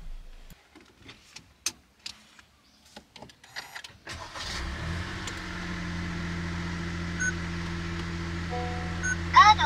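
A car engine starts after a few seconds of scattered clicks and handling noises, then settles into a steady, close hum as the car pulls away for an early-morning drive after a night in the vehicle.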